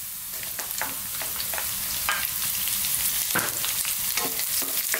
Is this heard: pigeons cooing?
no